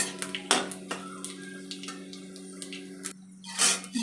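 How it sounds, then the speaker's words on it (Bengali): Tempering spices stirred in a pan for tomato chutney, giving intermittent metallic clinks and scrapes of a utensil against the pan over a steady low kitchen hum, close and fairly quiet, with no talking. "এই যে আমি নেড়ে নিচ্ছি"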